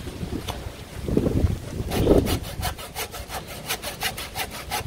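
Hand sawing through a storm-fallen tree, starting with a few heavy rough strokes, then settling into a fast, steady rasping rhythm close by, with wind noise behind.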